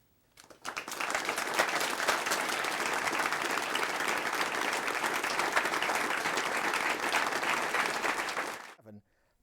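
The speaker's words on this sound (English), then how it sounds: "I welcome you to give a round of applause as I welcome the candidates" An audience at a televised candidates' debate breaks into sustained, loud applause that swells quickly and holds steady for about eight seconds before cutting off.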